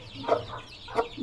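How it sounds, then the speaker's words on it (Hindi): Young chicks clucking and chirping in a new enclosure, two short bursts of calls close by, moderately loud against a steady low background. "चूजे भी खुश हैं।"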